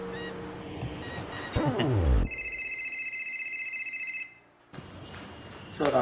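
A phone rings with a steady electronic tone lasting about two seconds, following a burst of louder noise. It is fairly clear and near, and then cuts off.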